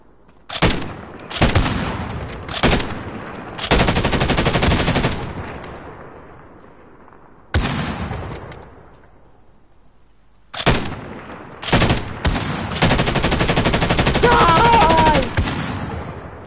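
Gunfire in Call of Duty: Warzone: several loud bursts of automatic fire, each cut short or trailing off, with gaps between volleys and a long sustained burst near the end.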